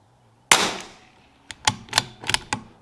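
Five sharp .22LR rifle shots with Lapua Center X match ammunition: one crisp crack followed after a pause by four more spaced quickly, each a short near snap with a brief decay.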